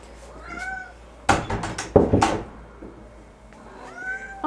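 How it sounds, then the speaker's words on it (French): Cats in an animal shelter meow in short, clear calls at the start and end, with a loud burst of knocking and clattering in between. "En liberté, ce sont les chats qui sont arrivés."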